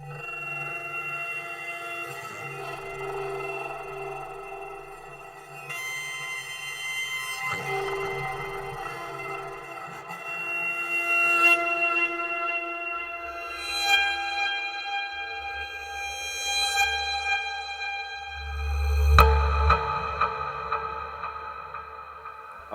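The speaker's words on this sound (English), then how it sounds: "The first one is a delay into a reverb." Sustained instrument notes played through a delay into a Source Audio reverb pedal bloom and repeat, trailing off in echoing delays and a wide, washy reverb tail, with a low rumble swelling near the end.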